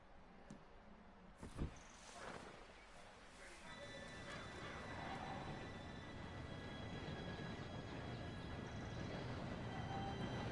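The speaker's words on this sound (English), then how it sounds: "Train should be here any minute now." A steam train arrives in the Red Dead Redemption video game, with a broad rumble that swells steadily louder and nearer alongside faint whistle-like tones, while horses whinny and hooves clop early on.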